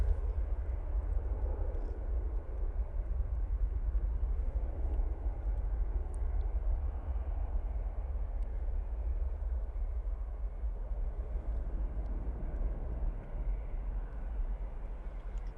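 An airliner departing for London Heathrow rumbles steadily in the distance, a low continuous engine roar that holds at an even level throughout with no voices.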